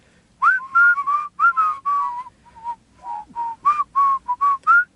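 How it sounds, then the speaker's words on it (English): Someone whistles "Whistle While You Work" slowly in short, separated notes with pauses between them, giving it an eerie, hesitant feel. "Let's do a slow whistle of Whistle While It Works."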